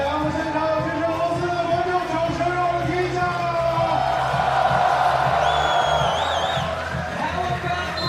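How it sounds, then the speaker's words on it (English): A crowd at a FIBA 3x3 U23 World Cup basketball game cheers and whoops for Team Russia, a loud sustained roar that swells midway, with an announcer's voice over it at times. "Make some noise for Team Russia."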